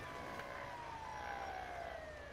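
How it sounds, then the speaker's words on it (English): Vehicle sirens wail continuously in a sweeping tone over a steady engine-like rumble, moderately loud and unbroken. "Since the sirens are on, I figure out the button to turn them off"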